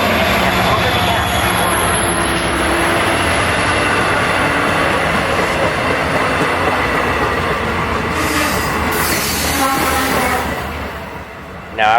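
A Long Island Rail Road passenger train rushes past at close range with a loud, sustained roar of wheels and rails. The sound stays steady for most of its length, then fades briefly near the end.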